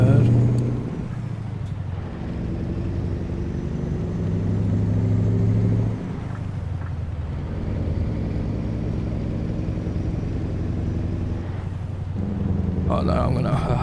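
Mack Superliner truck engine in American Truck Simulator, a loud, steady diesel rumble that drops and changes pitch around gear shifts, with a brief hiss near the end and no speech.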